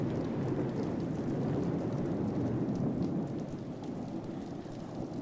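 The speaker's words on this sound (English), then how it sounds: "Rain was pouring down from the thundering black clouds that filled the sky." Heavy rain pours steadily with deep rolling thunder rumbling underneath, a dense, continuous storm wash at close range with no voices.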